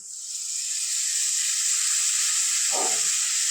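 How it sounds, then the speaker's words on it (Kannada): Masala tempering for bisibele bath simmering with added water in a pot, a steady close hiss and sizzle that holds throughout, with a brief low bubbling burst near the end. "ಈ ಥರ ಚೆನ್ನಾಗಿ ಮಸಾಲೆ ಒಗ್ಗರಣೆ ಒಳಗೆ ಕುದಿಬೇಕು"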